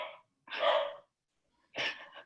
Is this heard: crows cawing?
no